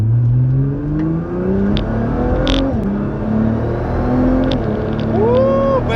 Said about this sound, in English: let's give it a little bit of gas, see how it does